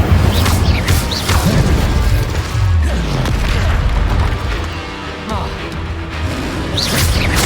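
Confringo, an explosive fire spell, cast during spell combat in a wizarding video game, brings a dense run of loud booms, crashes and rumbling blasts layered together with little pause, heavy and close throughout.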